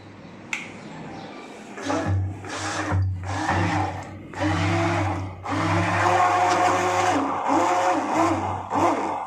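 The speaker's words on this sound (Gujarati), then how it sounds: "એને આપણે ઝેરી લઈશું, સારી રીતે બ્લેન્ડર મારી અને ગોળાને એક બે દહીંની એડ કરી અને સારી રીતે બ્લેન્ડર મારી લેશું" An electric blender whisks yogurt (dahi) for chevdo in repeated bursts, each a loud whirring motor pulse starting and stopping, close by and filling the space.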